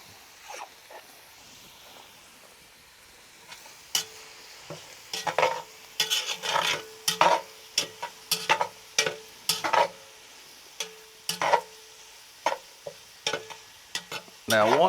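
Onions soften in a pan, first with a quiet low sizzle, then with a run of rhythmic stirring scrapes that are loud and close over the frying.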